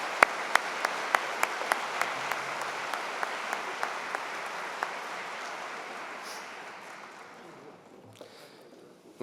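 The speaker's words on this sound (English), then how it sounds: "let's give them up a big round of applause for that excellent performance this afternoon" Sustained audience applause for a big band after an afternoon convocation performance, a broad wash of many hands with a few sharp close claps standing out, slowly fading toward the end.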